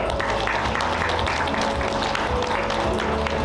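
Steady, loud crowd applause fills a hall at the 2025-2026 KOVO men's volleyball rookie draft, dense and sustained throughout with a murmur of voices underneath.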